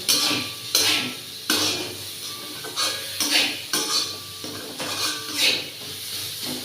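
Lightly frying chopped onion in a pan for fried rice, with a utensil scraping and clinking against the metal in repeated loud strokes over a steady low sizzle, close up and without any talk.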